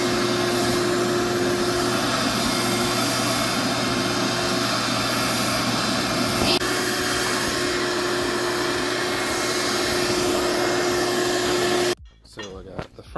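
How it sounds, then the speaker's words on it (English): A shop vac runs continuously while cleaning a Recaro car seat, a loud steady whine with a constant tone that cuts off abruptly near the end, leaving quiet handling noises. "I'm gonna try to vacuum it a little bit with a shop vac just to clean some extra stuff off of it"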